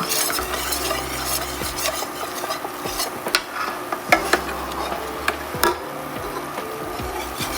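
A spoon stirs chili powder into a thickening roux in a pan, scraping steadily and continuously under a soft sizzle, with a few sharper knocks against the pan, close and alone with no talking.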